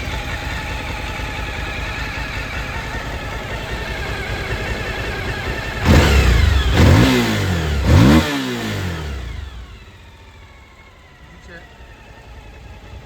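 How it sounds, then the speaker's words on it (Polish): A Suzuki DL motorcycle engine idles steadily, then revs up sharply a few times before settling back down; someone speaks briefly over it. "silnik pracuje bardzo ładnie"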